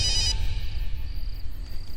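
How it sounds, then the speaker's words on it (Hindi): A phone rings late at night with a bright electronic tone, loudest at first and then fading under a steady low rumble. "इतनी रात में नारद का फोन?"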